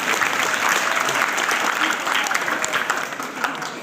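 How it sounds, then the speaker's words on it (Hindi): An audience at a government college event in Lormi, Mungeli district, claps together loudly, a thick, steady wall of applause lasting a few seconds. "तो जोरदार ताली के साथ"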